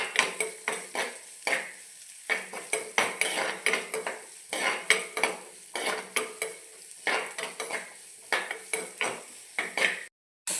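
Small onions and green chillies frying in a pan, with a soft sizzle under repeated scraping and clinking as a metal spatula stirs them in bursts, close and fairly loud.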